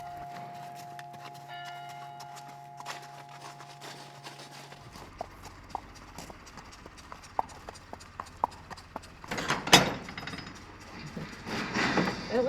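Horse hooves clip-clop at a steady walking pace, moderately close, on hard ground around a riding stable, with a constant hum early on and a louder scraping burst near the end, no talking.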